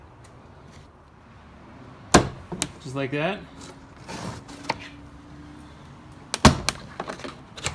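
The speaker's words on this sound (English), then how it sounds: "we're going to pop all of the clips on the door panel" Plastic clips pop loose as a panel tool pries off the rear door panel of a Toyota Tundra. Two sharp, loud snaps sound several seconds apart, with someone talking and rustling handling noise between them.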